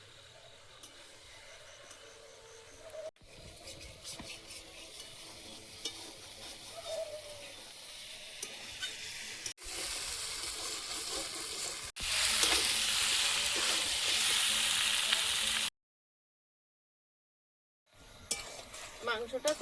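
Chicken kosha, spiced meat, fries in a pan with a low sizzle and occasional stirring. The sizzle grows louder and hissier in the later stretch, then cuts to a brief silence before it resumes.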